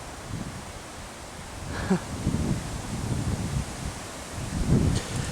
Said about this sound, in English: when you feel the wind or hear the wind quite so powerfully